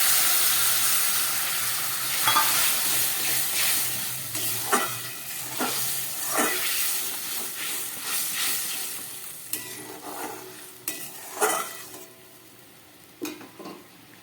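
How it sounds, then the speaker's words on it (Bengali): Warm water poured onto spice masala frying in a pan for a Bengali katla fish curry, a loud burst of sizzling that gradually settles, broken by repeated stirring clatters, no voices. "মশলাটা পুরো ভাজা হয়ে গেছে। এবার আমি এর মধ্যে দিয়ে দিচ্ছি উষ্ণ গরম জল।"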